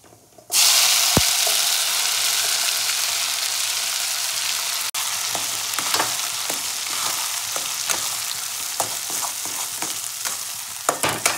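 Pea paste hits hot mustard oil in a wok with a sharp clack, then sizzles loudly and continuously while a spatula scrapes and stirs in irregular strokes, with no talking.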